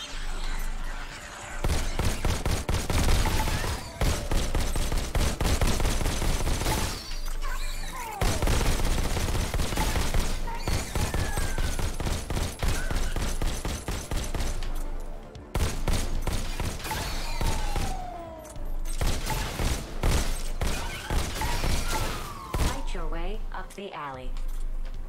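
Pistol gunfire in the VR shooter Robo Recall, aimed at robots, comes as dense rapid bursts of shots through most of the stretch, with brief gaps and mechanical clatter between volleys, loud and close.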